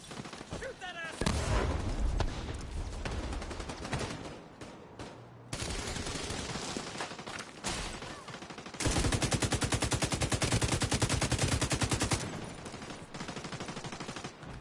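Sustained automatic gunfire in The Division 2 on PS5, loud dense bursts and rattling volleys filling most of the stretch with brief lulls, layered over game effects while players shout to each other.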